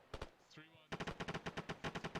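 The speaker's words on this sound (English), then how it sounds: "They're shooting at us." Rapid gunfire in a military simulation game: a couple of shots, a short pause with a faint tone, then a fast, evenly spaced burst of about a dozen automatic rounds, moderately close.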